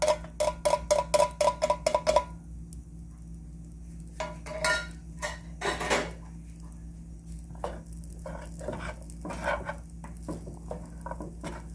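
A spoon scraping fried rice with chickpeas and chia seeds stuck to the bottom of a pan: a quick run of rhythmic scrapes, a pause, then scattered scrapes and clinks with a soft sizzle underneath.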